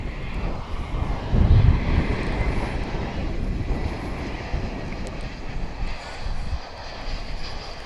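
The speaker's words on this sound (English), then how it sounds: "This A321 is coming in from San Francisco." An American Airlines A321 arriving at Dallas Fort Worth airport, a broad low engine roar that swells early and then lingers as a steady rumble mixed with wind buffeting on the microphone, moderately close.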